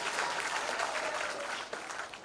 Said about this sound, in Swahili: Pigieni gavana makofi.